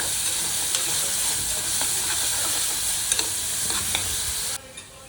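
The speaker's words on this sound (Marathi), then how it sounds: "हे पण आपण कलर चेंज होत तोपर्यंत परतून घेणार आहोत" Onion and other ingredients for dal khichdi sizzle and fry in a pan while being stirred until they change colour. A steady hiss carries faint scraping stirs and then cuts off sharply near the end.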